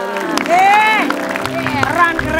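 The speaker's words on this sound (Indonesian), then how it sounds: "Tepuk tangan dong." Studio audience on a morning TV show breaking into applause and cheers, a short burst of clapping and crowd noise mixed with voices talking over it.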